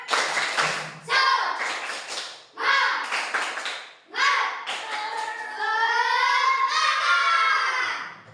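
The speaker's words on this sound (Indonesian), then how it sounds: "Oke, tepuk semangat." A class of children claps a rhythmic cheer pattern in bursts, with young voices chanting and calling out together between and over the claps, close and lively in a classroom.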